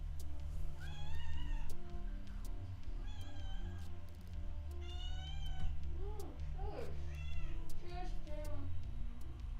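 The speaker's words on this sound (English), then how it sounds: "I don't know what that noise was, but it's a cat." A cat meows several times in short rising and falling calls, spread across a background of steady music and low murmuring, the cries fairly clear but not loud.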